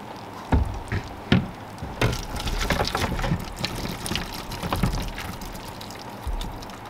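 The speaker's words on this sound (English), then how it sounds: "this is the strainer, and then underneath is a pan, and that's going to catch the grease at the bottom" Cooked hamburger meat grease strained through a metal strainer into a pan below, heard as a few wet pours, splashes and knocks over a low liquid trickle, close by with no talk.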